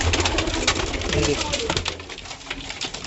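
Soft low cooing from a hen pigeon in a hobbyist's loft runs under continuous nearby talking, with the cooing strongest in the first half.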